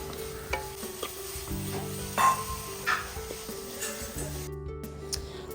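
Steady stirring of a hot coconut sweet mixture with cardamom powder in a pan, soft scraping and faint sizzling with occasional light clinks of the utensil, no talking.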